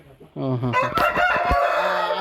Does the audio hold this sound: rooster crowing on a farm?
yes